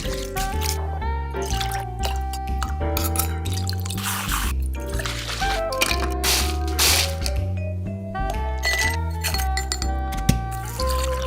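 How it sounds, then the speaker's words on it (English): A drink is mixed in a glass with ice, bringing clinking cubes, pouring and dripping liquid, and sharp cracks in a busy, close run of sounds. "So I want you to watch this and see the drink, how the drink is made."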